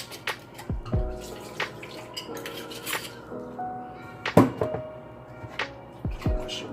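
Water sloshes and clatters as a container that held marinade wine is rinsed out in a kitchen while a Jamaican fruit cake is prepared, with scattered knocks of dishes and pans and splashes in an uneven rhythm, close and moderately loud.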